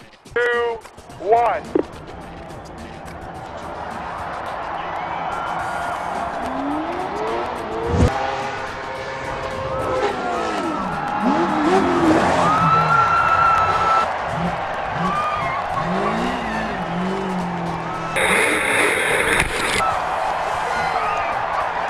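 Cars racing on a full-size Hot Wheels-style track, engines revving and tires squealing across a busy mix with crowd noise and talk, plus sweeping pitch changes as vehicles pass.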